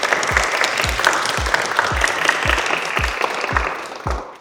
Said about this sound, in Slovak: ktorého privítajme prosím potleskom